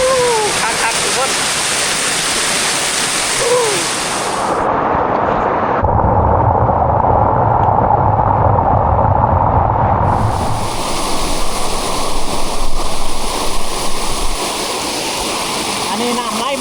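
Water runs steadily through a stream at night in the countryside, a continuous rushing wash. It is loud and close, and its tone shifts partway through, as if the listener moves nearer.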